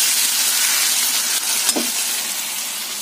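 Catla fish curry cooks in a pan with a steady, close sizzle and hiss that runs throughout, broken only by one brief soft clink midway.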